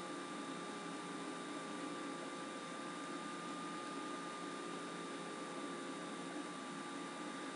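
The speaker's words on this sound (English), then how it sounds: "This is done with a hammer drill and it takes a few minutes" A hammer drill coring a 2-inch hole through a wall, producing a steady, even, whining grind that holds constant and moderately quiet throughout, with no speech.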